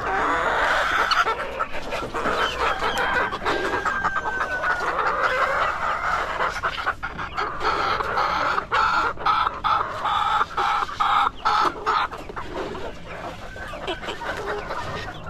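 A flock of chickens, including brown laying hens, clucks and squawks busily during feeding in a coop, with a rooster crowing, a dog faintly barking and steady clattering throughout.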